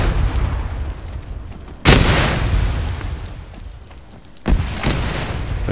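Two heavy blasts from frag grenades going off in a video game combat scene, each a sudden loud boom with a rumbling tail, the first around two seconds in and the second near four and a half seconds, over steady battle ambience.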